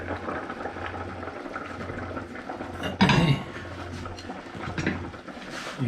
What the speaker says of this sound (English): So it's now been simmering quite rapidly for 10 minutes